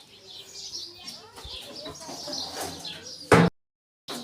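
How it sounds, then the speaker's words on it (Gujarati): Pigeons sit inside a metal box, giving soft scattered coos and a brief burst of flapping or rattling, with a voice briefly heard among them. "જો આ કબૂતર બેઠા છે અંદર."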